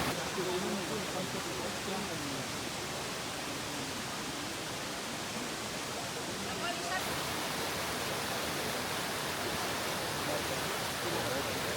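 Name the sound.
waterfall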